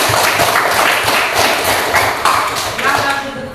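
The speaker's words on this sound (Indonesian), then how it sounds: "Tepuk tangan." A group claps in a classroom with a steady burst of close, busy hand clapping that continues for a few seconds, with voices underneath.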